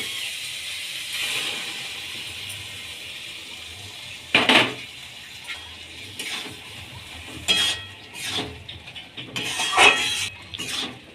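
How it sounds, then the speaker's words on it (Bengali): Boiled peas go into a cooking pan for ghugni, with metal utensils clinking and scraping against the pan in scattered sharp knocks over a soft, steady cooking hiss. "এবার আমি সেদ্ধ করা মটরটা দিয়ে দেব।"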